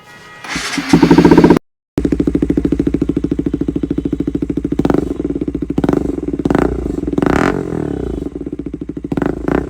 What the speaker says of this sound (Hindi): साउंड सुनाता हूँ आपको।